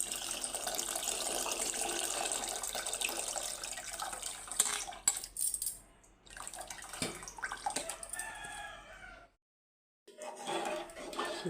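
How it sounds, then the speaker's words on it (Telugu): Tamarind juice pours into a pot of lentil soup in a steady, splashy liquid stream that thins and breaks off, with a brief silence before pouring resumes. "చింతపండు పులుసు అయితే యాడ్ చేస్తున్నాను."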